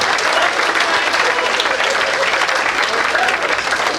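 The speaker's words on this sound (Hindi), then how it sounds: "बजाओ एक बार फिर से तालियां।" An audience claps in loud, dense, sustained applause from start to finish, and a voice is faintly audible under it.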